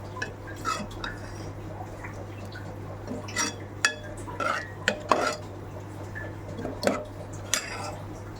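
A pot of besan gavar (cluster bean) sabzi in a home kitchen gets its lid clanked on, with several sharp metallic knocks and clinks of utensils against the pot over a low steady hum, fairly close and with no talking.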